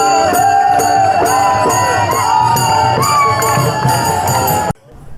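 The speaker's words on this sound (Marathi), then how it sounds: "वाट पाहणारे लोक, टाळ मृदंग आणि वातावरणाचा आवाज" Dense outdoor crowd at the Pandharpur Wari palkhi procession in Nigdi, Pune, loud and close, with steady rhythmic cymbal clashes and mridang drumming under voices, cutting off abruptly near the end.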